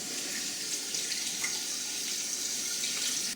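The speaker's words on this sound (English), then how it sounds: "top this up with some cold water" Cold water running into a pot of lamb bones for stock, a constant hissing, splashing stream from start to finish with no talking.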